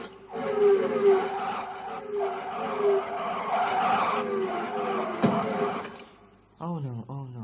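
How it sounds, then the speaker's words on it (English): High-speed toy cars in a stop-motion chase scene screech with long, loud tire-skid squeals that rise and fall for several seconds, then a voice breaks in near the end. "High-speeding vehicles"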